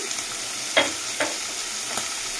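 Ivy gourd and shrimp fry with onions in a pan, a steady close sizzle broken by a few sharp scraping stirs from a spatula, with no talking.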